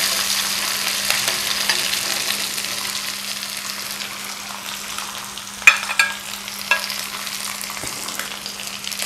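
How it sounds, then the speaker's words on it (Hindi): Fish pieces fry with ajwain in hot oil in a pan, a continuous close sizzle and hiss with a few brief clinks and scrapes of stirring near the end, no voices. "अब वो फ्राई करते हैं।"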